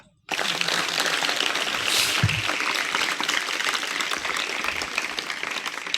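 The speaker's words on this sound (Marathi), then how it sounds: "एकदा टाळ्या वाजवा" An audience claps together at a Marathi poet's book launch gathering. The applause is dense and steady, starts abruptly after a brief silence and keeps going at full strength for about six seconds, with no voices over it.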